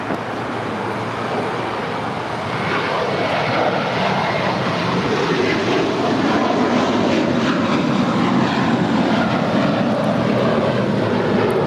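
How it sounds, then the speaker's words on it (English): A five-year-old American Airlines Airbus A321 departs LAX for Philadelphia, its engines a broad, loud roar that swells gradually and holds steady throughout, heard alone without voices. "That is American Airlines Flight 481 departing to Philly. It's a 5-year-old Airbus A321."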